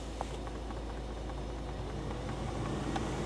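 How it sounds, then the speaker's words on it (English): A car engine idling steadily after a new motor has been fitted, a constant low hum with faint light ticking at close range and no talk. "Got the car running"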